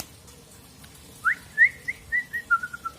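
A young wild-caught white-rumped shama gives a short run of clear, whistled notes, a rising first phrase followed by quicker descending chirps, close and distinct against a quiet background.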